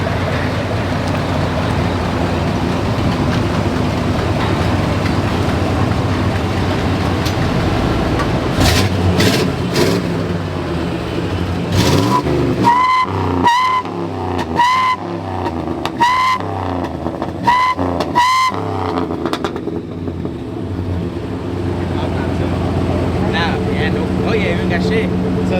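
A car engine with a new muffler and a slight exhaust leak revs repeatedly, rising and falling in strong bursts over a steady rumble, with some tonal ringing and voices in the background.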